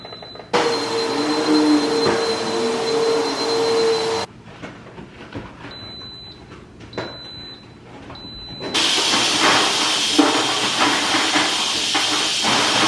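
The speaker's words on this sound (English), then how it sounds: "after that finishes cooking and you release your pressure" Steam hisses loudly as pressure is released from a pressure cooker holding cauliflower and onions, in two long, steady bursts separated by a quieter pause.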